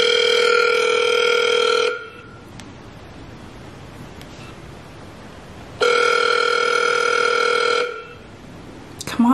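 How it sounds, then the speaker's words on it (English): Outgoing-call ringback tone on a telephone, two long steady electronic rings separated by a pause of quiet line hiss, loud and close. "Come on, go answer the phone."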